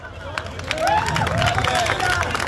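A crowd claps and cheers at a fair in Haryana, a dense, steady wash of hand claps and noisy babble that grows louder after the first second, with music and voices blending in.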